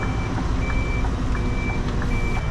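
Reversing beeps sound from a Scania V8 truck hauling an oversize load, a steady series of evenly spaced high beeps over a loud, continuous low engine rumble, with no talking.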